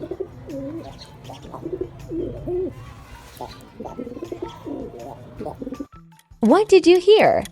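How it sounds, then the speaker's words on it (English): A pigeon coos in a short burst of repeated rising and falling calls, loud and close, heard after a stretch of talking and a brief pause. "A pigeon."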